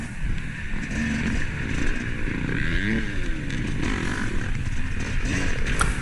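A two-stroke dirt bike races at a GNCC cross-country event, its engine roaring continuously and loud while other bikes add to the din, with the pitch rising and falling.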